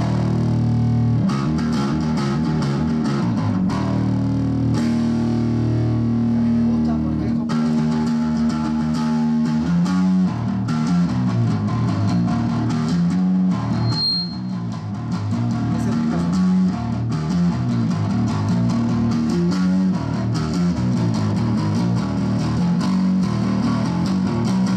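Electric bass guitar played through a preamp pedal standing in for an amp head, at a bass clinic in a Baptist church; a loud, steady run of gritty, overdriven bass notes and riffs alone for about twenty-five seconds.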